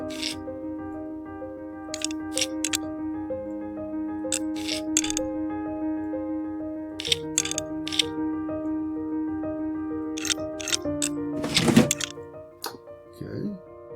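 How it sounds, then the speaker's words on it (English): Screws tightened by hand to secure a PC motherboard during a build, giving sharp ratcheting clicks in irregular bursts over a steady hum. "Tighten up these screws."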